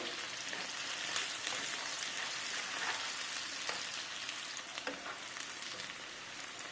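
Sliced onions fry in hot oil for a Bangladeshi hilsa fish curry, giving a steady, dense sizzle that holds close and fairly loud throughout, with faint crackles and occasional pops and no talking.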